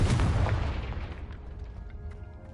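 A loud booming explosion from a Confringo fire spell in the Hogwarts Legacy video game, with a heavy low-end blast at the start that slowly rumbles and fades away.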